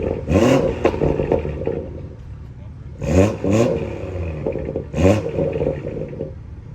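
A BMW 340i with a loud aftermarket downpipe gives three sharp rev blips, each a quick rising roar that fades away, with people talking in between.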